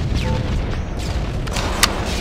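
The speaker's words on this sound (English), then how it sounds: "I need to show you a grenade jump by yourself from the ramp." A grenade explodes in a capture-the-flag shooter video game match, a loud, deep boom with a rumbling low-end wash that fills the moment, followed by a brief sharp crack near the end.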